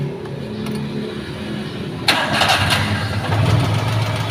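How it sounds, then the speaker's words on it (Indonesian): A carbureted Daihatsu Jetstar engine with advanced ignition timing cranks briefly, then catches with a sharp start and settles into a steady, close, loud idle, no talking. "cek langsung bisa starter apa enggak"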